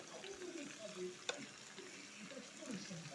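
Sweet pumpkin, potato, ridge gourd and sponge gourd frying in a pan for a mixed vegetable chorchori. The soft, continuous sizzle is faint and low-level, with a brief clink near the middle and a quiet voice faintly beneath.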